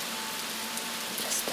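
Rain falls in a steady, dense hiss of drops on surfaces, soft and even throughout with a faint low hum beneath and no voices.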